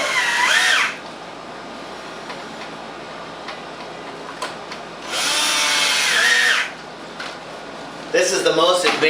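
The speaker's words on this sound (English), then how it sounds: "This is the most advanced ozone generator concept design in the world." An ozone generator fitted with a 1.5 horsepower blower whirs in loud bursts that rise and cut off, separated by a quieter steady hum, with someone speaking in between.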